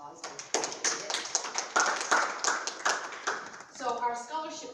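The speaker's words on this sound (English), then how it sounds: "just by a round of applause, I would appreciate it" Audience applause at a PTSA school meeting: a steady run of many hands clapping at moderate volume, fading as a voice begins speaking at the end.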